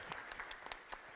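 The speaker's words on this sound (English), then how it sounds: "Let's give her a round of applause." An audience at a live science show gives a brief, faint burst of applause, heard as scattered individual claps rather than a dense roar.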